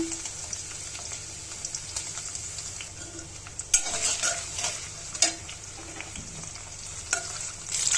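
Bay leaf, chopped garlic and onion fry in a pan for a taro and shrimp curry, a steady soft sizzle with a few sharp clinks of a spatula stirring against the metal, close and without talk.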